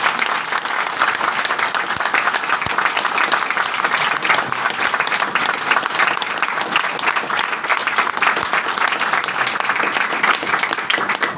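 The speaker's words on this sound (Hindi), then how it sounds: "तो एक बार इन सभी लोगों के लिए भी तालियां।" Steady, dense applause from a large audience at a company meeting, continuous and even for the whole stretch with no voices standing out.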